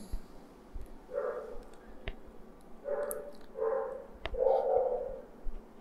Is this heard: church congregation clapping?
no